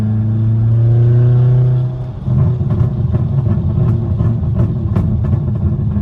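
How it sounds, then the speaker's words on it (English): An Audi A4 1.8T with a catless test pipe and full straight-pipe exhaust rises in a droning rev, then drops off into a rough, crackling burble with scattered pops, loud and near. "See what the burbles tell me"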